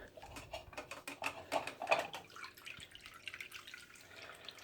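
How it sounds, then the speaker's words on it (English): Water drips and trickles in the filter of a home aquarium tank, giving a faint, irregular patter of small splashes that is close by and quiet, with a slightly busier burst near the middle. "When you're up here and everything's turned off, you can hear the water."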